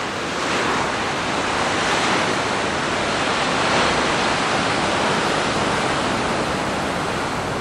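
Ocean waves breaking along the shore at Puerto de la Cruz, Tenerife, a loud continuous roaring wash of surf with gentle swells in intensity and no pauses.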